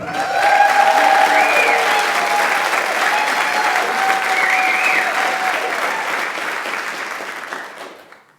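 An audience applauds to welcome a speaker onto the DEBx stage, dense steady clapping from a crowd that holds for several seconds before fading out.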